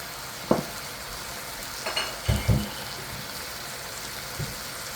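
Baby bok choy cooking in a wok with a splash of broth, a soft steady sizzle marked by a few low scraping knocks and brief clatters of stirring, close by and without speech.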